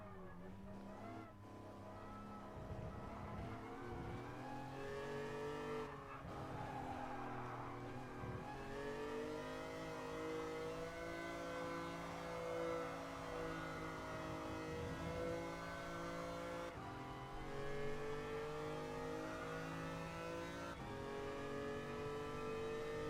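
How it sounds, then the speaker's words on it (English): Engine note of a car in the racing game Gran Turismo Sport, a steady sustained drone with shifting pitch that rises and settles through several revs, loud and continuous with no talking over it. "That's somewhat of how the exhaust sounds"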